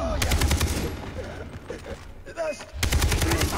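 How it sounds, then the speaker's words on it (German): Gunfire in the video game Far Cry 3, with loud rapid bursts of shots at the start and again near the end, broken by quieter stretches of game sound. "Schuss!"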